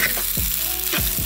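Gnocchi fry in a very hot pan with a steady loud sizzle and occasional scraping stirs, close and with no voices.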